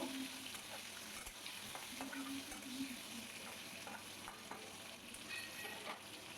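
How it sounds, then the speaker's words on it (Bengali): Potatoes frying in a wok with salt and turmeric for a vegetarian soybean-potato malai, stirred steadily: a continuous close sizzle broken by scraping, clattering strokes of the spoon against the pan, with no talking. "সমস্তটা আস্তে আস্তে কড়াইয়ের মধ্যে দিয়ে দিলাম এক চামচ লবণ আর হাফ চামচ হলুদ দিয়ে দিলাম এবার ভালো করে ওপর নিচ নাড়িয়ে চাড়িয়ে নেবো"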